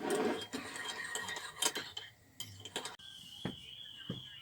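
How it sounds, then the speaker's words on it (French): Dishes and cutlery clink and clatter in a camper van sink, with a few sharp knocks, running water and faint speech in the background. "Allez, on fait la vaisselle du matin."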